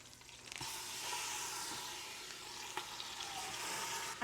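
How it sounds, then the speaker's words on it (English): Steady crackling sizzle of hot oil in a frying pan, continuous and close, with occasional small pops and a faint clink. "Can you hear the sizzle?"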